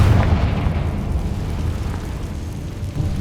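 Confringo spell blast in Hogwarts Legacy: a heavy, rumbling explosion with a loud deep burst at the start, fading into a sustained roar.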